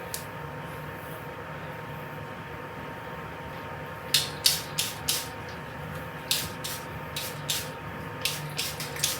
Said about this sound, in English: I just have to spray it in my hair.